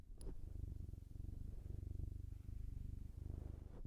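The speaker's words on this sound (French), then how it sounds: "Oh, est-ce qu'on va l'entendre ronronner?" A cat named Léon Trotsky purrs close against a microphone on its neck: a soft, low, steady rhythmic rumble of pulses, quiet and alone, pausing briefly between breaths.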